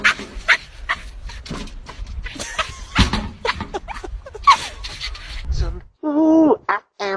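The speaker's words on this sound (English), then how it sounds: "when the dog plays seesaw alone" A dog plays alone on a seesaw, and its paws rub and scrape against the board in a quick, irregular rhythm. Near the end come a few short whimpering dog sounds, with no talk.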